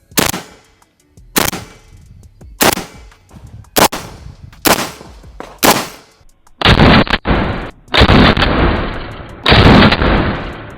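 Rifle shots from a Zastava M90 AK and an AR-15 in .223, fired outdoors: six sharp, loud single reports spaced about a second apart, then a dense stretch of rapid, overlapping cracks and sustained roar.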